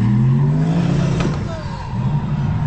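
A burnout car's engine runs at full throttle, a loud, steady roar with a rising and falling rev over a few seconds, close up.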